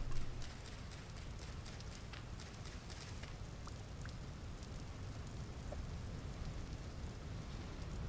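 Steady rain falling in the game Vintage Story, a continuous broadband hiss with faint patter and occasional clicks, holding at an even level throughout.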